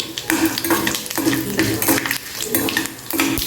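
Cashews go into a hot frying pan already holding cumin, black pepper and cut dried red chillies, giving a steady sizzle with rhythmic scraping and stirring against the pan, close and fairly loud.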